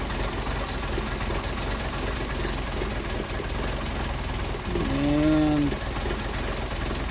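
A Mercedes 190SL engine idles on Solex 44PHH carburetors with the throttle held closed, a steady low rumble throughout, close by, with a brief swelling tone near the end.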